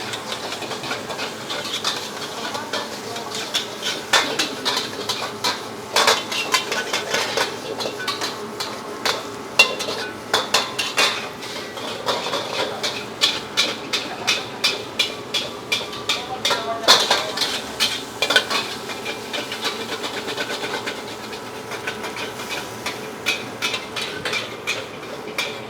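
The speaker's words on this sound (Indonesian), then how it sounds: "Nah, ini kita masak sampai kering, kita bakar aja kayak begini nasinya, teman-teman." Rice coated in wet curry spices being stir-fried until dry in a pan, with repeated scraping, clattering strokes of a utensil against metal throughout, fairly close and steady, amid a busy background hum.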